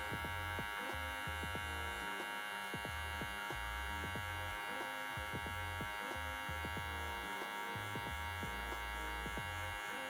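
Electric hair clipper buzzing steadily at close range while cutting hair for a low taper haircut, a constant motor hum with rhythmic low thumps from strokes through the hair, no voices.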